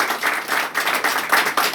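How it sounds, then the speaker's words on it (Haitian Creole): Audience applause at a church service, a fairly loud burst of clapping that keeps a steady, slightly pulsing texture for a couple of seconds. "Il mérite un applaudissement."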